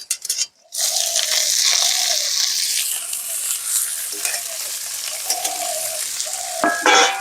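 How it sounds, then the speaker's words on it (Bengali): Chopped cabbage drops into hot oil with white mustard seeds, dried chili and bay leaf, bursting into a loud, continuous sizzle and frying hiss, with scraping stirs and rattles running throughout. "এখানে সাদা সর্ষা শুকনো লঙ্কা তেজপাতা ফোরন রেডি হয়ে গেছে এবার হচ্ছে কেটে রাখা বাঁধাকপিগুলো দিয়ে দেবো"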